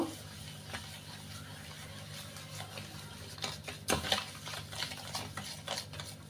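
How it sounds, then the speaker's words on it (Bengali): Eggs and sugar are beaten together by hand in a bowl, a faint, steady stream of rapid stirring and light clinking, close and quiet with no talking. "এটাকে আমি এখন ফেটে একসাথে মিশিয়ে ফেলবো"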